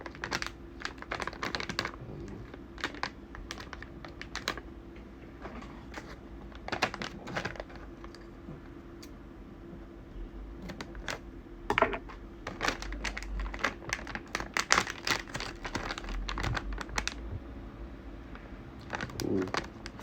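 Plastic packaging of a spicy gluten snack being cut open, a steady run of small crinkling snips and rustles up close, with brief quiet talk.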